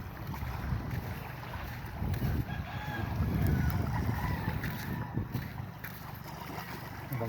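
A small outrigger boat sits on the water outdoors, with low rumbling wind buffeting the microphone and soft water sounds swelling and easing over several seconds, no talking.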